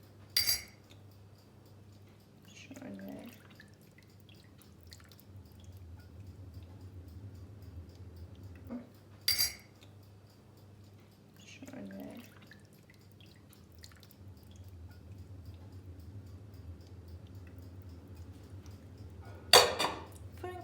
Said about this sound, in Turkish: Karıştırıp üzerinden güzelce gezdiriyorum.